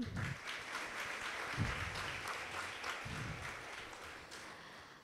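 An audience at a Guru Purnima programme at an educational institute claps steadily in a dense wash of applause that stays fairly soft and distant throughout.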